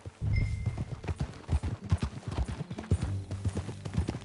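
Horse hooves clip-clopping in a brisk uneven rhythm as a horse is ridden in a western-style video game, close and clear with some low background rumble.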